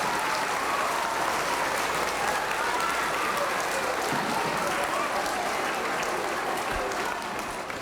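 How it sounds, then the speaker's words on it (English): A school audience of students gives a long round of applause, dense clapping from a large crowd continuing steadily and tapering slightly at the end, with faint voices mixed in. "So can you all give yourselves a big round of applause?"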